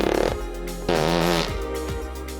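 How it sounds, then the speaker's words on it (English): A few loud, close fart sounds from a prank phone app in quick succession, buzzy and varied in pitch, one longer and rasping in the middle. "it will trigger a different fart sound every time"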